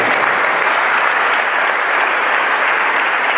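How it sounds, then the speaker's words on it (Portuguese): Loud, dense applause from a large church congregation, sustained and even from start to finish. "Aplauda o Senhor nesta noite."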